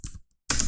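Typing a passphrase on a computer keyboard: a short burst of close key taps, a brief pause with one faint click, then another dense burst of taps.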